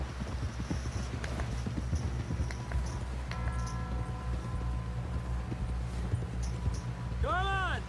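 Horse hooves clip-clop steadily in Red Dead Redemption, a rhythmic thudding of a ridden horse under game music and voice-like tones, moderately close but not loud.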